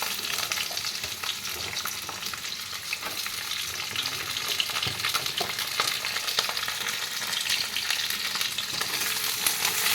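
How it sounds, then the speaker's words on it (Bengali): Potato, carrot, papaya and drumstick pieces sizzle loudly in hot oil for a shukto, with continuous crackling and frequent scraping stirs of a spatula close by, no voices. "এবার আমি ভালো করে একটু নাড়াচাড়া করে নেব সবজিগুলো আগে"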